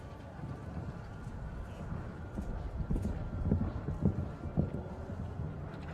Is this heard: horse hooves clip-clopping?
yes